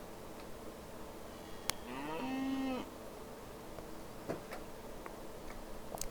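A single drawn-out cow moo rises out of steady game ambience at a cattle ranch in the train-building game Railroads Online, with faint clicks before and after it.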